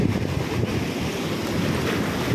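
Sea waves surge and wash into homes in Pajpandhari village on the coast, a steady roaring wash of water mixed with heavy wind buffeting the microphone, with no voices.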